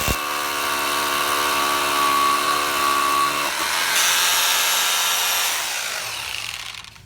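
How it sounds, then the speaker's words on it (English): A hammer drill fitted with a Thürmer Pro drill bit bores a hole, a loud, steady, close grinding whine with a shift in pitch partway through before the motor winds down at the end. "So now I'm going to show you a hole drilled with the Thurmer Pro drill bit."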